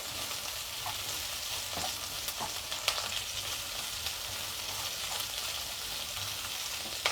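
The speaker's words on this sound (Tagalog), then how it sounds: "Yan, magigisa na tayo ng ating bawang at sibuyas." Onion sautéing with garlic in a pan over low heat, a steady, even sizzle and fry hiss with a few faint utensil clicks and stirring scrapes throughout.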